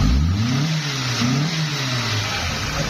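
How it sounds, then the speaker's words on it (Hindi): Hyundai Santro Xing car engine, close and steady, revving in repeated short rises and falls over a running idle, alone with no voices. "तो हमारी गाड़ी रेस ही लेना शुरू कर देती है।"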